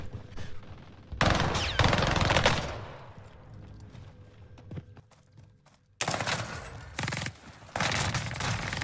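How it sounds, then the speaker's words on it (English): Loud bursts of rapid submachine gun fire from a PPSh in Call of Duty: Warzone Pacific, one long volley early on and more repeated bursts near the end, separated by a quieter stretch of game noise. "That PPSH is too good."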